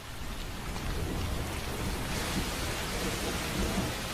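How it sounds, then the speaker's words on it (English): Heavy wet-season rain pours down steadily with a deep thunder rumble underneath, a dense, even roar with no voices. "At the height of the wet season, it rains almost every day."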